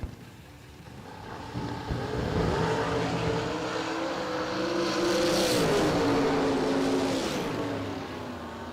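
Drag race cars, including the Boss Lady Camaro, roaring down the strip: a sustained, loud engine drone that swells and rises in pitch mid-run, then fades slightly at the end, with no talk over it.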